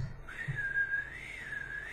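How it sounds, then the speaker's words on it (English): A person whistles a single sustained, wavering tune, clear and fairly close, over quiet room background with no talk. "I've been whistling"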